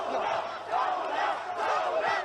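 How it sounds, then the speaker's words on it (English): A large crowd at the Beirut blast site shouts a chant in unison, loud and close, with rising and falling waves of voices through a steady roar. "Crowds shouted, "Revolution, revolution.""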